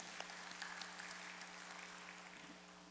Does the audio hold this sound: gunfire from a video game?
no